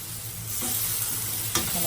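Onions fry in coconut oil with a close, steady sizzle and a brief clink of stirring partway through.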